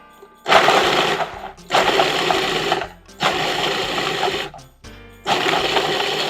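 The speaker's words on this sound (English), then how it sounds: "we're gonna put a box of vanilla wafers in the food processor" Food processor grinding a box of vanilla wafers, loud steady whirring in four long bursts separated by short pauses, with no talking.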